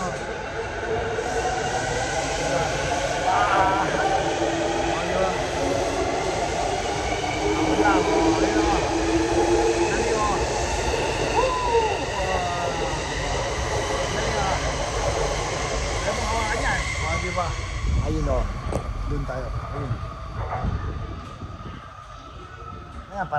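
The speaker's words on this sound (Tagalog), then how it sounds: "Parating na yung sasakyan ko, Tren." A commuter train pulls into a Tokyo station with a loud rumble and a whining electric motor whose pitch falls as it slows, and occasional voices sound over it.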